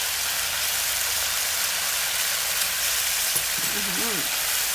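Eggplant stir-fried with soybean paste sizzles steadily in a hot pan, a dense even hiss that runs alone throughout, with a brief faint voice near the end.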